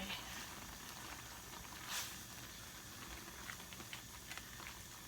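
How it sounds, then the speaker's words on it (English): TVP simmers in water in a pot with a steady, soft bubbling hiss and a few louder pops, close and fairly quiet, with no speech. "we are going to boil this until it's dry, because we've got the TVP in there as well"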